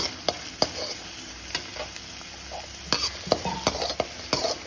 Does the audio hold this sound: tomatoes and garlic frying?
yes